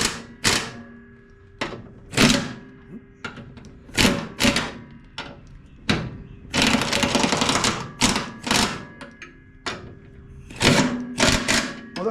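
A Capri impact gun rattles off the mower deck bolts of a Husqvarna YTH1842 riding mower in close, loud bursts of hammering, with sharp clunks between them and one longer sustained buzz midway.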